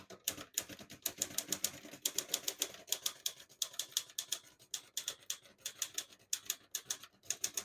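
A 1950 Olivetti Lettera 22 portable typewriter is typed on steadily, each keystroke a sharp, close clack in a fast, fairly even rhythm with brief pauses, no voices over it.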